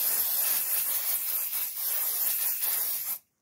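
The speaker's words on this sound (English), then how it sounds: "so I'm gonna spray lightly, it's not a lot, away from you" Light aerosol spray misted onto fabric during machine embroidery prep, a steady close hiss broken by brief pauses, then cutting off abruptly at the end.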